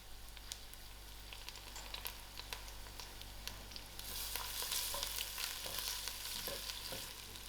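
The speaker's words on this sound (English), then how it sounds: "I'm also keeping an eye on my onions that's frying for the garnish." Onions frying in hot oil in a pan as a curry garnish, a steady close sizzle with occasional stirring scrapes, growing louder and more crackly partway through.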